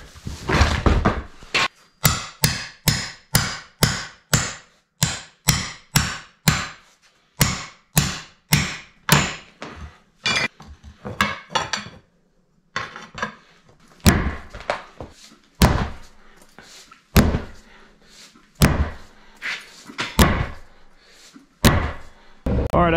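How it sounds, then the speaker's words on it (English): A sledgehammer pounds on the steel tire rim of a 1950s Galion road grader, with loud, close, ringing metallic blows in rapid runs broken by short pauses. "I've been beating on that tire for 10 minutes with a sledgehammer"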